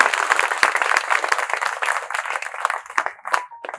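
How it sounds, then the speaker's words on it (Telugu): An audience at a celebration bursts into loud, sustained clapping after a song, a dense wash of many hands that carries on for several seconds before thinning out. "ఎట్లా అనిపించింది సాంగ్ మీకు ఒక క్లాప్స్ తో చెప్పాలి"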